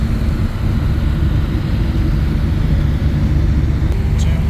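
Continuous loud engine drone of passing road traffic in Pakistan, motorbikes buzzing steadily close by with no pauses.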